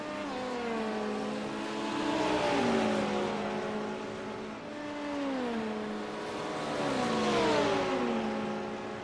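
Porsche prototype and LMP2 race cars lapping Sebring in an iRacing IMSA event, engines whining up and down through gear shifts in steady repeated sweeps, loud and continuous with no talk.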